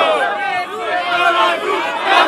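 Rap battle audience at an open-air freestyle battle shouting and cheering loudly, a dense, continuous roar of many voices with a rising swell at the end.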